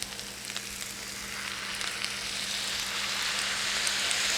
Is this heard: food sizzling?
yes